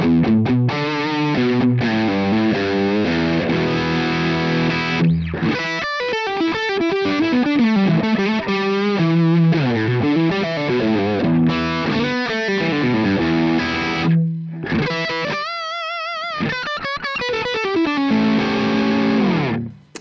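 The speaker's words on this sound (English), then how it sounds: "this is the Brainworx Friedman, and this is what this sounds like" A dry, distorted electric guitar through a Brainworx Friedman amp model plays chords and riffs for about twenty seconds, loud and upfront with no reverb, with a short pause near the end.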